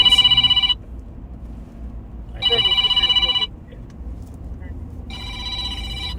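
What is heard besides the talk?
telephone ringing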